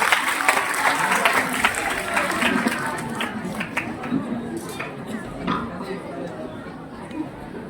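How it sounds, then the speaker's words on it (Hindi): A crowd at a school Teacher's Day celebration claps loudly to welcome a speaker to the mic, sustained applause mixed with chatter and voices that gradually thins out. "डॉक्टर पॉपुलर मिरेठी माइक पर आप सबकी जोरदार तालियों के साथ"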